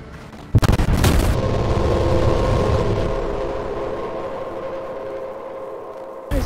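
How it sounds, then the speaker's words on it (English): A tank in Fortnite fires with a sudden heavy blast and then rumbles on in a low, steady mechanical drone that slowly fades. "Someone has a tank."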